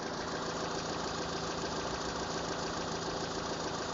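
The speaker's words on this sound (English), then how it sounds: "See how this engine is running perfect." A Volkswagen gasoline engine idles steadily just after a service, running as a smooth, even hum with a low mechanical drone. The level stays constant and close throughout, with no stumbles or misfires and no voices.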